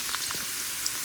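Phuchka puris frying in hot oil, a soft steady sizzle with a few faint crackles and pops, close and continuous with no voices.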